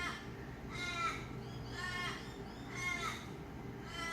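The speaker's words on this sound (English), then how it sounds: "so it shouldn't come as a surprise that there are crows in the area" Crows caw outdoors near a suburb, four or five harsh calls in a loose rhythm at moderate distance over steady background noise.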